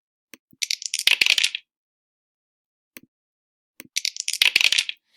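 Virtual dice rolling in an online math toolkit, two bursts of bright clattering rattles like dice tumbling and settling, each lasting about a second, separated by a quiet gap with a faint tap.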